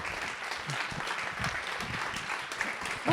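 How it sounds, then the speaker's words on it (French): An audience gives steady applause welcoming Nathalie Péchalat at an interview event in Bron, a moderate continuous clapping from a room-sized crowd with a few voices mixed in. "Alors voilà, on a oui, on peut l'applaudir."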